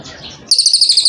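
A tame brown ketean (cililin Kalimantan) songbird at a bird market sings a bright, rapid series of high chirps, loud and close, following a brief murmur of background noise.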